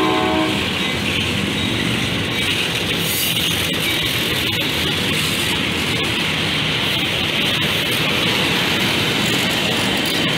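A freight train's horn blares loudly and continuously, layered over the steady rumble and clatter of the passing train in the Bay Area.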